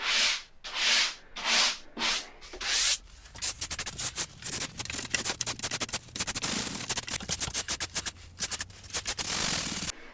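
Drywall being sanded by hand, working close into a corner: a steady run of close, loud scratchy sanding strokes, long slow sweeps at first, then quicker short back-and-forth passes with no talking.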